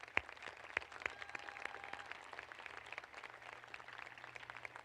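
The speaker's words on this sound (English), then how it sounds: "I think you need to give them all a round of applause." A graduation ceremony audience applauds the senior class in a large venue, a faint, distant, sustained patter of clapping with a few sharper claps near the start.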